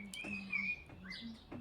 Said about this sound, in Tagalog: Kaya maraming ibon.